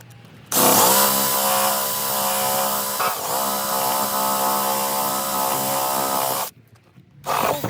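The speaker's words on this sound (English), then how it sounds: "you want to drill through the first panel, but not the panels behind it" A power drill whines steadily as it bores out spot welds on a rusted truck frame panel during a GMC Sierra Denali restoration, loud and close, running continuously for about six seconds with a brief dip midway before stopping.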